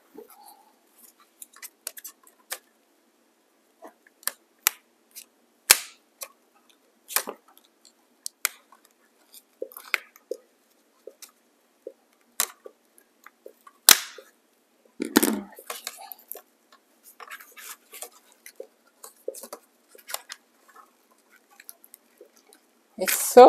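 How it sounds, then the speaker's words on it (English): Scissors snip at a stuck plastic plant pot in short, sharp, isolated clicks and crunches scattered over quiet gaps, close to the microphone, with a louder crinkling burst midway. "I'm wondering if I'm gonna actually have to cut this plastic because it's not moving one bit"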